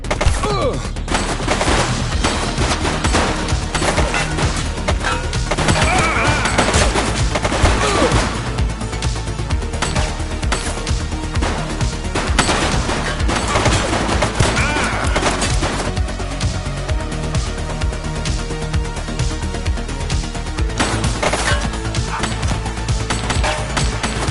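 Rapid gunfire crackles through a police shootout in The Precinct, dense sharp volleys and bursts repeating across the stretch, loud and close with metallic clinks between shots.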